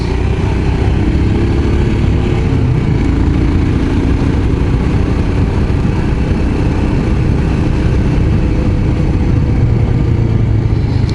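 Royal Enfield Scram 411 motorcycle engine labouring on a climb along a wine route, a steady loud, close drone with low rumble that holds for the whole stretch without a break, with no talk over it.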